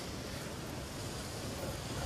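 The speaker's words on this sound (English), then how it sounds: "A little waterfall coming down here at the moment." A small waterfall runs down a rock face on a climbing route, giving a faint, steady rushing hiss that holds even throughout with no voices.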